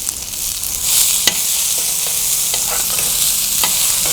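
Onions sizzle steadily in a hot pan while cooking mutton sukka, a utensil stirring and scraping, with a few sharp clinks against the metal.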